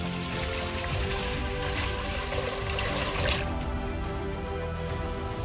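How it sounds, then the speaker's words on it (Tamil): Water poured onto split moong dal in a cooking vessel, a continuous close rushing pour that fills the whole stretch and eases slightly toward the end. "பருப்பு வேகிறதுக்கு தண்ணி ஊற்றிடும்"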